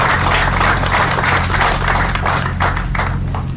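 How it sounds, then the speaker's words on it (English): Outdoor crowd at a Vietnam memorial wall ceremony claps for Vietnam veterans, a sustained round of applause over a constant low hum. "Would you give them a big round of applause?"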